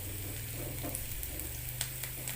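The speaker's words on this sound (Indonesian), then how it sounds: "Selanjutnya masukkan cabai. Tumis kembali hingga cabainya layu." Chili frying with shallots and garlic in a pan gives a soft, steady sizzle with a few light stirring scrapes, faint and close, with no talking.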